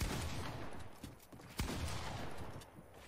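Shotgun blasts ring out in a video game firefight, several sharp reports scattered through a low, busy background of distant gunfire and muffled battle noise.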